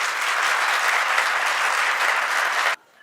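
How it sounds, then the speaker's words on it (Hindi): Audience applause during a Jain religious discourse, a thick, uniform burst of many hands clapping together that cuts off abruptly near the end, leaving quiet room tone. "इस बात में अच्छी तालियां एक साथ बजाई जा सकती हैं"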